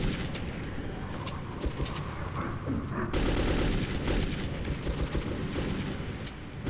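Gunfire in Metro 2033: sustained rapid shooting with booming bursts throughout, loud and dense, growing heavier partway through, with faint voices underneath.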